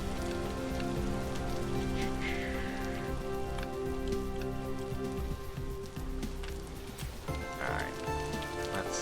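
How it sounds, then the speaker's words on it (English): Steady rain pours down in Minecraft, a constant dense patter with scattered drip accents across the whole stretch, close and even, with no voices over it. "The unfortunate thing about searching rainy areas is that it tends to rain a lot."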